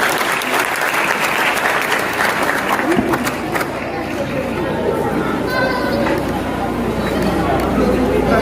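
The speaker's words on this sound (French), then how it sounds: "Applaudissez courage, Simonio, pour le succès" Audience applause at a children's village show with a Santa Claus theme, a dense, loud, sustained clapping that stays steady throughout, mixed with crowd chatter.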